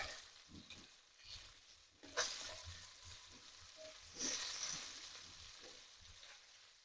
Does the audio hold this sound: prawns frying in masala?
yes